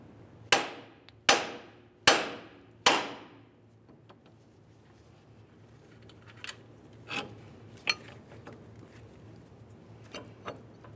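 Four sharp hammer strikes ring out in steady succession on the ball joint stud of a 2002-2009 Chevrolet Trailblazer's front lower control arm, each with a short metallic decay, followed by faint scattered clinks and light handling noises.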